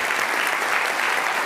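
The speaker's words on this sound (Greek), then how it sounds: "ένα χειροκρότημα για την κριτική μας επιτροπή" A hall audience at an awards presentation claps steadily for the jury committee, a dense, even wash of applause with no voices over it.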